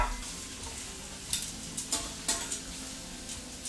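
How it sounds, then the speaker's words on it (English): Shrimp and chopped garlic sear in a hot pan, giving a close, continuous sizzle broken by a few brief stirring scrapes. "If you got your heat up correctly, it'll sear the shrimp real nice on one side."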